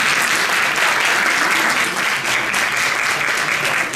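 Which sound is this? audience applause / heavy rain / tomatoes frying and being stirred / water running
audience applause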